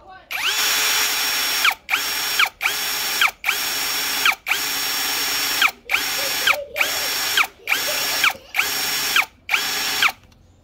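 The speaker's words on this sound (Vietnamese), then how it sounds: "Khoan sắt thì các bác phải châm dầu vào nhá, nó là nó nóng cháy mũi khoan." A Dekton 13 mm three-function drill bores into iron with a 12 mm bit at low speed. Its loud, steady whine runs in about nine bursts separated by short pauses.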